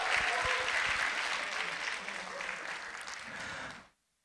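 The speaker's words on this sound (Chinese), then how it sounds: "掌声鼓励一下。" Guests at a wedding ceremony clap together in a dense, steady burst of applause lasting several seconds before it cuts off abruptly.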